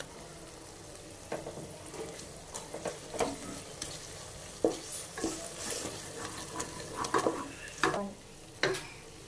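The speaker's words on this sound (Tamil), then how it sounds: "ஃப்ரெண்ட்ஸ், நான் கொஞ்சோண்டு பட்டர் ஆட் பண்ணிக்கிறேன்." Butter sizzling in a pan while frying for chicken biryani, a steady crackling hiss broken by repeated sharp scraping and stirring knocks from a spoon against the pan.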